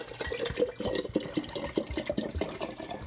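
Filtered water from a local co-op is poured for homemade lavender lemonade, giving a continuous close splashing and gurgling of liquid filling a container, with no talk.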